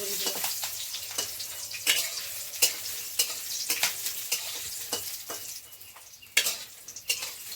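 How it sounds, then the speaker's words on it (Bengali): Mixed vegetables sizzle steadily in a hot pan while a utensil scrapes and stirs with repeated sharp strokes, close up and without talking. "লাল লাল করে ভেজে নিতে হবে"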